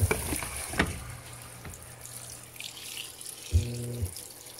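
Water gushes and splashes into the drum of a Panasonic Ag+ 16 kg washing machine, a steady rushing fill with a few clunks and a low mechanical hum, no talking.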